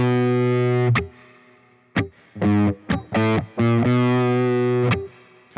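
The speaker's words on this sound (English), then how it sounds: "I'll put in some percussive mute so you can hear it." Distorted electric guitar riff, heavy low chords in choppy bursts separated by short percussive muted scratches and brief silences, loud and close.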